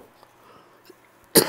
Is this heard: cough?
yes